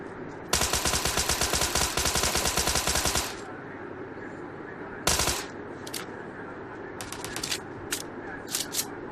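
M416 rifle fire in a battle royale video game: a long rapid automatic burst, then a short burst and several scattered quick shots, loud and close.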